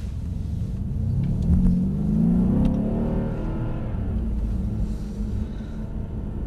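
Mercedes-Benz E63 AMG engine rumbling steadily while driving, with a low, loud drone that swells briefly as it accelerates and then settles back to a smooth cruise.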